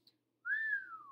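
A single short whistle, a clear tone that glides slightly up and then falls, near and alone in a quiet room.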